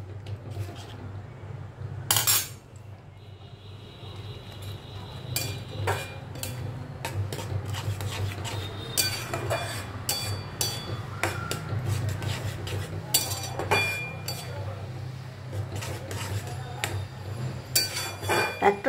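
Cashews and raisins being stirred into pineapple chutney in a pan, with a spoon clinking and scraping against the metal in irregular taps over a steady low hum, and no talk.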